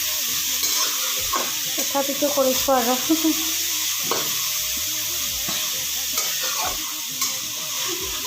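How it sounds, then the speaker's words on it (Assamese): Grated carrots for sweet laddu sizzle and fry in a pan while being stirred steadily, with scraping strokes and a continuous hiss; a voice speaks briefly over the cooking. "এনেকৈ 10 মিনিটমান ভাজিব লাগিব এতিয়া মই ভাজি আছোঁ"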